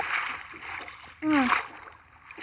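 A short, sharp water splash bursts in the middle of a Minecraft session as a fall is broken by landing in water, sitting among faint game ambience with speech nearby.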